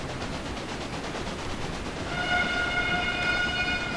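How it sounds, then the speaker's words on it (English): A train runs along the line in the Railway Empire game, giving a steady, even rumble; partway through, sustained horn-like tones rise above it and hold to the end. "There's a train going through there on the line."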